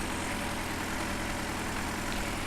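Farming Simulator 2015 tractor engine idling steadily with a low, even rumble held at constant loudness throughout, no voices.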